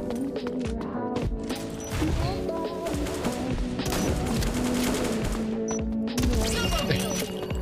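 Repeated shotgun blasts from the shooter game Bullet Angel, loud bursts of gunfire in quick succession over game music and effects.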